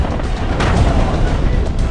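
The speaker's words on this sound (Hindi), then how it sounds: "टैंक ने दागे बड़े बड़े गोले और हवा में उड़ गए बगदादी के आतंकी।" A tank firing large shells gives a loud, close, rumbling boom that fills a short span with deep roar, with a voice talking over it.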